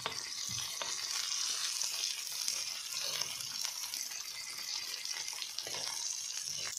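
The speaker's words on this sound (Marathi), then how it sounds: "मी साईडला करून ठेवते आणि दुसरे मासे तळते आता।" Fish sizzle and spit steadily in hot oil in a pan, a continuous close frying hiss with faint scrapes, no voice over it.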